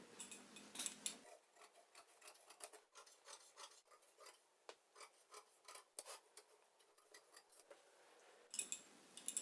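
Scissors snipping through blouse fabric laid flat for a size 40 princess-cut blouse, a run of close, crisp cuts and rasping blade strokes in quick irregular bursts with no talking.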